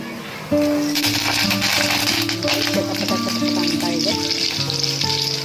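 Curry leaves hit hot oil for upma and burst into a loud crackling sizzle that spits and pops close by, with a few clinks and a voice faintly present underneath.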